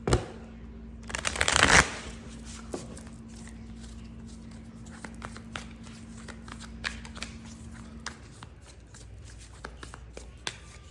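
Tarot cards being flipped and shuffled, starting with a loud close riffle burst, then a run of lighter crisp card flicks and taps over a faint steady hum.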